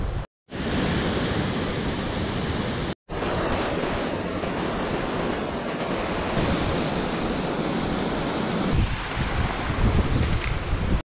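A river flows beside a hiking trail on the climb up Scafell Pike, England's highest peak: a steady, loud rush of water mixed with wind buffeting, continuous apart from two brief cuts, with no voices.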